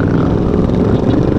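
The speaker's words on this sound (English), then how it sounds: "this rough scallions came with their very loud motorcycles and were revving awful" Loud motorcycles rev hard nearby during a Halloween group ride, a dense, steady engine roar filling the whole moment without a break.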